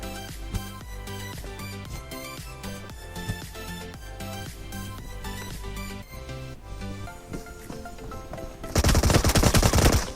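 Gunfire in the PUBG Mobile video game, with rapid bursts of automatic rifle shots in quick rhythmic volleys, loud and close, ending in a louder dense rattle of fire.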